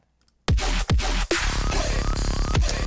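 Dense synth patch built in Serum hitting in an electronic drop, loud and full-range with heavy low-end punches and sweeping kick-like hits, no voices.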